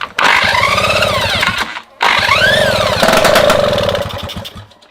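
A Solex 3800 moped engine being restored sputters and revs loudly up close, cutting out briefly before catching again, its uneven putter rising and falling with a ragged, misfiring rhythm.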